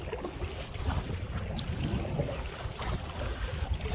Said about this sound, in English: It's windy. I'm going into the wind.